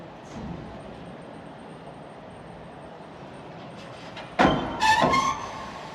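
A Polregio passenger train at Wrocław Główny station rumbles steadily with wheel noise, then a louder passing burst of squealing and clatter near the end, with no talking.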